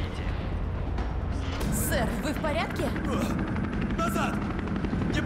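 A helicopter in the Resident Evil 3 remake drones steadily and loudly throughout, mixed with bursts of gunfire and booms as voices talk over it.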